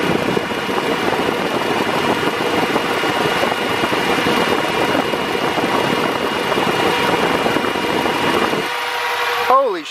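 A SPAL electric radiator fan runs at full speed with a loud, steady whooshing roar of moving air. It cuts off abruptly near the end, leaving a faint whine winding down.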